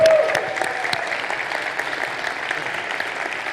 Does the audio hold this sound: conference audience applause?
yes